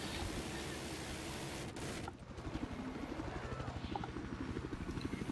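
Helicopter in a multiplayer video game match, a loud steady rotor thump with a rapid pulsing beat under broad engine noise, briefly dipping before the chopping resumes close by.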